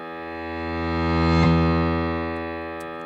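A reversed piano note swells steadily from silence to a sharp peak at the midpoint, then fades back down, its rich sustained harmonics holding throughout, loud and alone with no voices.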